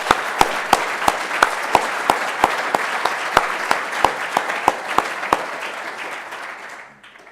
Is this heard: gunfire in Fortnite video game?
no